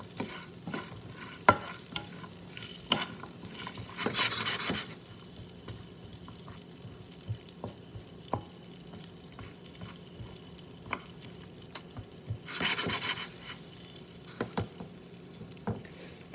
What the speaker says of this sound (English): So you can hear the asparagus start to sizzle a little bit.